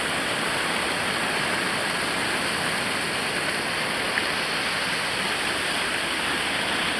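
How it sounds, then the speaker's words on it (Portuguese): Waterfall cascade in the Serra da Mantiqueira, a steady, loud, full roar of falling water that runs unbroken throughout with no voices. "Bom, Marcelão, aqui na cascata, olha só que beleza!"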